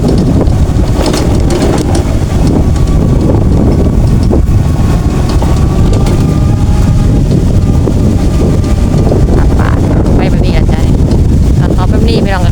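Dry wind blows outdoors along a roadside by sugarcane fields, a steady, loud rush buffeting the microphone throughout, with faint engine hum and a voice talking now and then.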